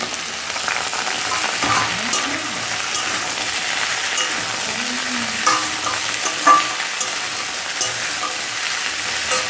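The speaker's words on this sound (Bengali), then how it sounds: "আলু আর ওলকপি একসাথে দিয়ে ভালো করে ভাজবো" Potatoes and kohlrabi frying in a pan, a steady loud sizzle running throughout with occasional soft stirring scrapes and knocks, close by and with no talking.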